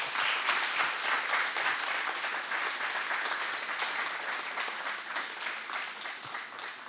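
Sustained applause from the crowd at a Sainte Barbe firefighters' ceremony in Grignols honouring a retiring adjudant-chef: dense, even clapping from many hands at moderate distance, steady for about seven seconds and easing slightly near the end.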